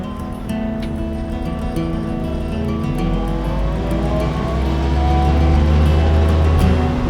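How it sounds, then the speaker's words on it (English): Willys Utility Wagon truck fitted with later Jeep CJ5 axles driving on the road, a steady engine drone with rising revs through gear changes, heard from inside the cab and growing louder toward the end. "Let's take a ride in this neat little truck."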